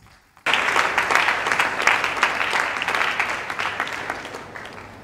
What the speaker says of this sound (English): I think she deserves a resounding applause.